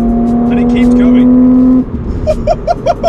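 BMW Z4 with its sound generator pipe removed, engine droning steadily while driving, then easing off as people talk over it in the cabin.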